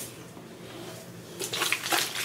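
Liquor is poured into a cup, a soft trickling splash swelling to a louder gurgling pour near the end, close and alone.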